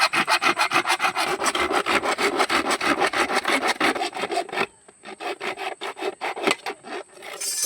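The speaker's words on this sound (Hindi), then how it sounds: "तो भाई देखो अब काट रहे हैं पीवीसी पाइप" A hand saw blade cuts through PVC pipe in steady, rapid back-and-forth strokes, loud and close, with a brief pause before the rasping resumes.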